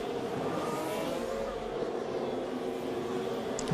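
Formula 1 car heard onboard with Charles Leclerc at Yas Marina during Abu Dhabi Grand Prix practice, a dense continuous engine roar with a high buzzing whine, steady and close, no talk.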